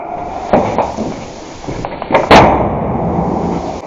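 Grenade explosion during an urban combat defense, a sharp loud blast near the end following a few smaller cracks and bangs, with reverberating noise afterward.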